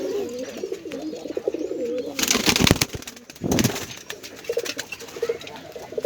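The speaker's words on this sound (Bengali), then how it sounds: "কবুতরটা উঠতেছে।" A pigeon coos softly and repeatedly at close range, with brief bursts of rustling and handling noise in the middle.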